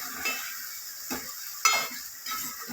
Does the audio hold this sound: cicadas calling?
no